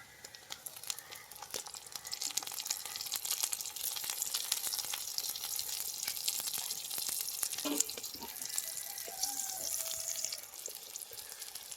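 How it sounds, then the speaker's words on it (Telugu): Chopped tomatoes go into a pan of frying onions and green chillies, producing a steady crackling sizzle with dense spitting pops and a brief clatter partway through, close and continuous without talk. "ఉల్లిపాయలు పచ్చిమిరగాయలు అయితే కొంచెం అయితే ఏగను ఇప్పుడు నేను టమాటాలు అయితే వేసుకుంటున్నాను"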